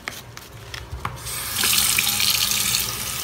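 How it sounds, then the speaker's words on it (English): Vinyl-stencil etched glass is washed under a kitchen tap. A few light clicks and handling taps come first, then the faucet opens into a steady, close rush of running water splashing over the glass. "next thing I'm going to do is I'm going to wash this off."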